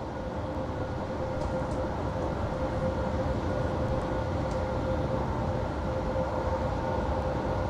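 A Class 801/802 train runs in a Roblox rail simulator, producing a steady, close, continuous rumble with a faint tonal motor hum and no speech.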